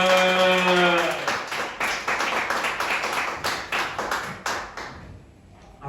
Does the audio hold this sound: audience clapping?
yes